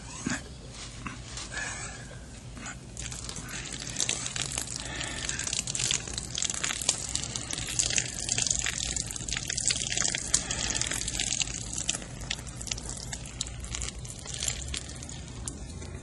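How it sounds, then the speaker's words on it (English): Liquid poured steadily from a can in an old radio drama scene, a continuous wet gush with a drippy, splashing texture that carries on for the whole stretch under faint background hiss. "Just enough so I can tip it freely to keep the pouring rate continuous."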